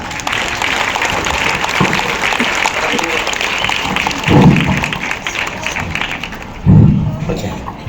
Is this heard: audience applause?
yes